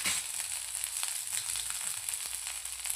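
Green peas sizzle and fry in hot oil in a kadai, a steady broadband crackle throughout with small stirring clicks, close and fairly loud, no voices.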